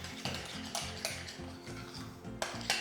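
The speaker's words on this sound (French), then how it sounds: "Le risotto, en fait, il doit créer comme une vague quand on le mélange." Squid ink risotto is stirred in a pan, making repeated wet scraping and stirring strokes with light clinks of the utensil against the pan. Background music plays underneath.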